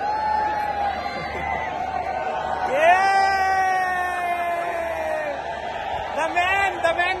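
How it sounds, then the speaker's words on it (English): A crowd at Multan Cricket Stadium cheers and whoops in the distance, with loud rising and falling yells swelling and fading in waves and steady crowd roar beneath. "What a crowd, man."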